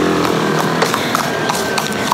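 Horse hooves clip-clop along a busy street in Dakar, a steady run of sharp knocks amid constant loud traffic and engine noise with no clear talk.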